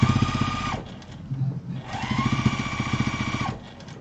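A sewing machine top-stitching around the edge of a fabric bowl runs in two steady bursts of rapid mechanical stitching, pausing briefly between them, close and clear with no talk.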